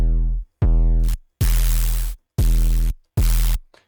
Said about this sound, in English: And also you have white noise.